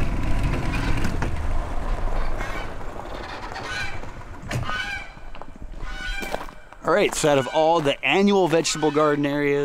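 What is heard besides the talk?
goose honking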